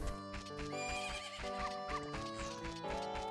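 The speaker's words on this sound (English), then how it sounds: "There's my horse!" A horse neighs in The Legend of Zelda: Majora's Mask at Romani Ranch, a shrill whinny mixed with clip-clopping hooves over the game's steady melodic music, moderately quiet.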